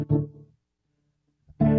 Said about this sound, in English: This is the sound of the tone control all the way to the left.